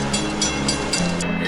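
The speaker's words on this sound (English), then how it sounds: "Here comes the train." A train runs along the New London, Connecticut waterfront on the Boston to New York line, a steady rumbling drone with low mechanical hum, fairly close and continuous, no voices over it.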